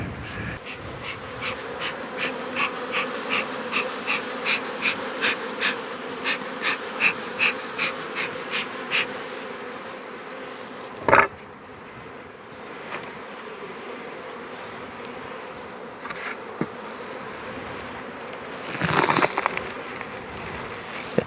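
Honeybees buzz around a hive, a constant insect drone with rhythmic bursts as bees fly close past, plus a few brief handling knocks and rustles.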